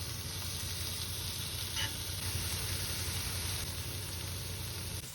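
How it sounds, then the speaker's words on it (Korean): Steady, soft sizzling of pork belly frying in a pan, a constant crackling hiss with no talking. "지글지글 지글지글 맛있는 냄새."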